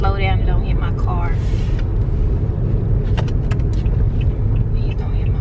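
Cars drive past on a street close by, a loud, steady engine and road rumble that fills the whole stretch, while a person talks over it.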